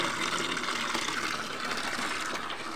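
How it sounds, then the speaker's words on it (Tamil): A steady rushing splash of water poured onto plants, continuous and close, with no voices. "வாங்க போய் தண்ணி ஊற்றிடலாம்."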